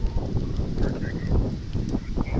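Gusty wind at a yacht harbor buffets the microphone, producing low rumbling thumps and a rough, fluttering roar throughout.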